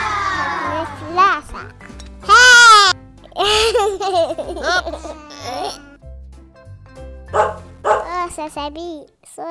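A sick dog in a park barks in short bursts amid a child's chatter and laughter, with voices close by throughout.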